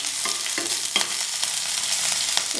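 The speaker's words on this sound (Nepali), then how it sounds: "तेल तातिसकेको छ, अब म यसमा जिरालाई फ्राई गर्छु। र यसमा म हरियो खुर्सानी र अदुवा लसुनको टुक्रा पनि राख्छु।" Cumin seeds, green chilli and ginger-garlic pieces sizzle in hot oil, a continuous bright crackle punctuated by sharper spits and pops at irregular moments, close and fairly loud with no talking.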